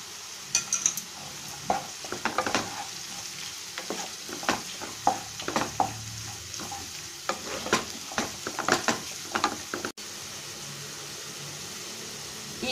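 Mango pickle being stirred with pickle masala in a pan, with scattered scrapes and clicks of a spoon against the pan over a faint background hiss, close by and without talk.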